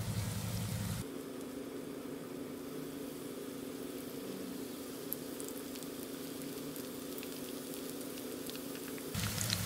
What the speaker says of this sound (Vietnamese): bây giờ mình sẽ cho vào chiên nhé